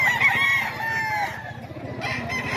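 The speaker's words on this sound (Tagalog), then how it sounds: "Ito mga kaidol, manok ni Boss Vic. SBR na Mount Banahaw." An SBR Mount Banahaw gamecock rooster, about eight to nine months old, lets out a single loud, close crow that trails off. Fainter background noise follows from a rooster sale in Bocaue.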